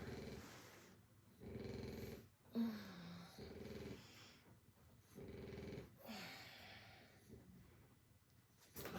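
A pet dog snoring nearby, with several slow, rumbling breaths, each followed by a short pause, and occasional snorts. Quiet indoor setting with no talk.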